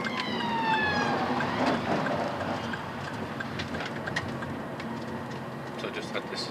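Police car siren passing on a road, a sweeping wail fairly loud at first and then fading into steady traffic noise.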